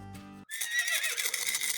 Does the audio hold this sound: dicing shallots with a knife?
no